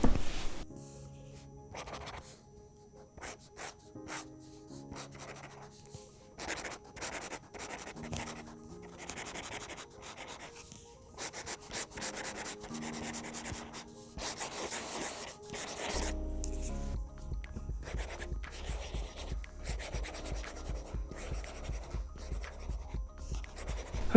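A Staedtler Jumbo felt-nib pen writes on a paper-feel screen protector on a BOOX Note Air e-reader, giving soft, close scratchy strokes in irregular bursts, with a steady low hum joining partway through.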